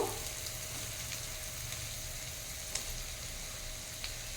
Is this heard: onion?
yes